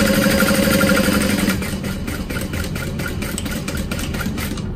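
A sewing machine stitches two parallel lines for a zippered pocket on a duffel bag, stitch length set to about 4.5; a loud, steady motor whir with a faint rhythmic pulse, louder for the first second and a half, with no talking.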